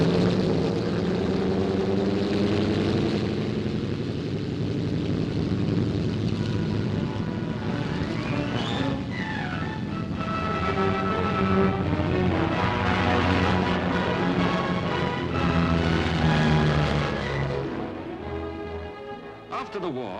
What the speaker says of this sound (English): the RAF manned these Washingtons, as we call the super fortresses